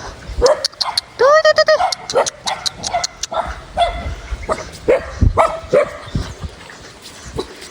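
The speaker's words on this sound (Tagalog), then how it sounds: "Sobrang ingay ng mga aso." Several dogs bark excitedly in quick bursts, with yips and a whining note, close by and loud.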